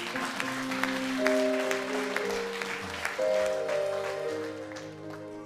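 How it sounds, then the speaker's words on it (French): A church congregation applauds and cheers for Jesus, with steady clapping spread across the room beneath sustained keyboard or organ chords that play throughout. "est-ce que tu peux acclamer Jésus?"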